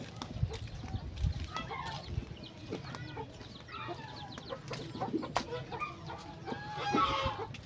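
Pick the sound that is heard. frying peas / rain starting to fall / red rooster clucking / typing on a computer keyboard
red rooster clucking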